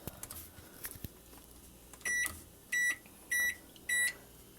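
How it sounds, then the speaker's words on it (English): A 1,100-watt microwave oven heating jello hums quietly, then sounds four evenly spaced loud electronic beeps at the end of its cycle. "now we are going to go microwave it for 2 minutes and 30 seconds."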